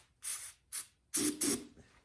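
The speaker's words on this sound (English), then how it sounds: "I'm going to spray a little bit of starting fluid" Starting fluid is sprayed into the cylinder of a Craftsman snowblower engine that won't start: four short hissing bursts, the last two closer together, with quiet gaps between and no talk.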